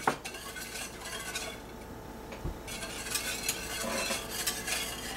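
A spoon stirs a bread dough mixture of sugar and instant milk in a bowl, making a soft, continuous scraping and swishing with light clinks of utensil on the bowl, fairly quiet and steady.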